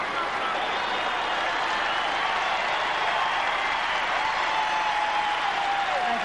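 Crowd applause at the end of a 1997 US Open women's quarterfinal tennis match, a dense, steady wash of clapping from a large stadium audience that holds evenly for several seconds.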